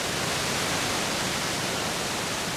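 Steady broadband roar of Niagara Falls on the US–Canada border, a constant rushing hiss of massive falling water with no variation, alone and without voices.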